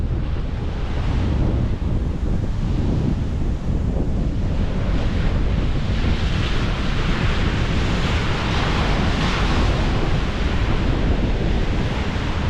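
Sea waves breaking on a beach with strong wind buffeting the microphone, a loud, dense, continuous roar of surf and gusts with no voices.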